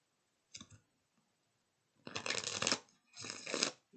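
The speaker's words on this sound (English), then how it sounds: "Let's get a good shuffle." A short riffle of tarot cards followed by two longer, louder shuffling bursts, close up, with silence between them.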